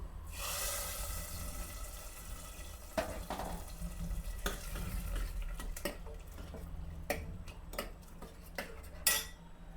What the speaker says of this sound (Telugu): ఇప్పుడు పోపు వేసుకుందాము.